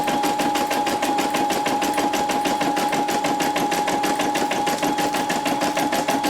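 A Poolin embroidery machine stitching a satin-stitch design, with a steady fast needle rhythm and a constant motor whine, loud and close, running without pause and with no talk.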